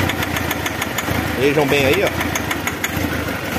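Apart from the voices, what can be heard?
car engine idling out of timing, piston hitting valve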